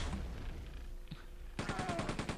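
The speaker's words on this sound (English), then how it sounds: "Machine gun fire." Machine-gun fire in the video game Quake 2 comes as a rapid, evenly spaced burst of shots near the end, following a quieter stretch of in-game ambience.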